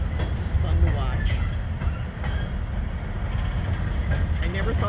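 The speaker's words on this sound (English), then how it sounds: "Wow, that's a good length of train there they got" A long, slow-rolling coal train with two engines at the front passes by, giving a steady, heavy low rumble with faint rail clatter throughout, while a person talks over it.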